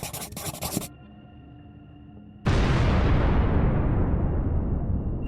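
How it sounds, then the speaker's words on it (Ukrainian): After a brief scratching noise and a quieter hum, a huge explosion from an airstrike on a command post in Kherson region bursts in suddenly and keeps roaring loudly without easing. "А на цих кадрах потужний вибух після авіаудару по російському командному пункту на Херсонщині"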